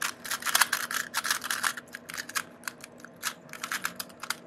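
An unlubricated YJ YuLong speed cube is turned fast, giving dry, scratchy plastic clicks in quick irregular bursts, close and fairly loud, with no one speaking.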